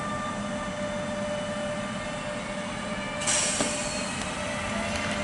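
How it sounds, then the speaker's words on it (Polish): Steady low rumble of a locomotive pushing a passenger train past a station in Piaseczno, with faint tonal hum and a brief brighter metallic hiss partway through. "Dzisiaj pcha. Ta lokomotywa, cały skład tego pociągu."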